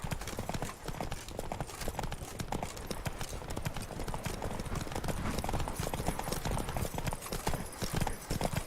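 Horse hooves clip-clop in a fast, continuous drumming, near and loud, as a horse is driven on at speed. Faint voices sit underneath.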